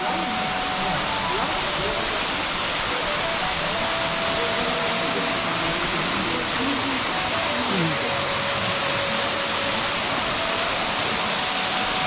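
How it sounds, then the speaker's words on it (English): Short waterfall in a cave garden in Meghalaya, a steady broadband rush of falling water filling the scene, with faint voices underneath. "And this is the waterfall."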